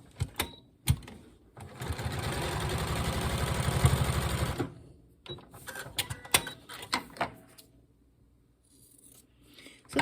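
A sewing machine stitches quilt block pieces in one sustained whirring burst of a few seconds. Scattered clicks and handling noises follow as the fabric is moved.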